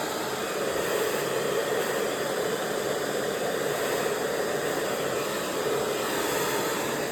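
A hair dryer blows continuously while drying medium to thick hair, a steady, even rushing hiss with no pauses, fairly quiet and close, with no talking.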